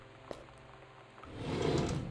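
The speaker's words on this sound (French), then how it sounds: "Ouvrons la porte glissante." A sliding door slides open in the video game Gone Home, a soft scraping rumble building after a faint click and lasting about a second, fairly close and alone.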